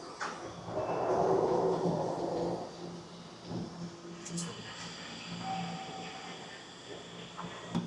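Tokyo subway train doors opening inside a red-colored car, a soft hiss and slide amid rumbling rail noise, followed by quieter carriage hum and faint clicks.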